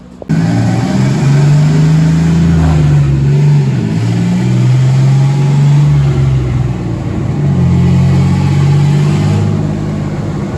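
A turbocharged 4.3 V6 drift truck engine with a GT35 turbo, five-speed gearbox and welded 10-bolt rear end runs hard on a dyno, giving a loud, sustained roar that swells and dips through the pull.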